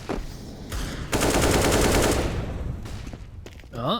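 Automatic AK rifle gunfire and pistol shots crackle in a Counter-Strike gun round, bursts rattling loud and dense through the middle, with scattered nearer shots and clatter before and after.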